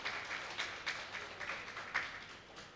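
Faint, distant applause from an audience at a Jagadguru Nimbarkacharya birth anniversary celebration, soft irregular clapping bursts at low level.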